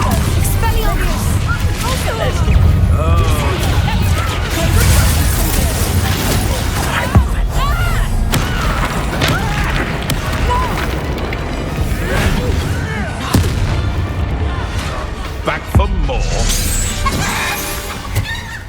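Spell blasts and explosions from Hogwarts Legacy combat rumble continuously under a dense game soundscape, with occasional sharper impacts and character voices mixed in throughout.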